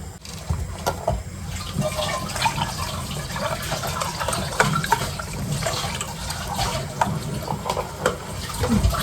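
Milk is poured into a flour mixture for creamy pasta, giving a steady, fairly loud wash of liquid that runs for about nine seconds with small splashes and stirring noises.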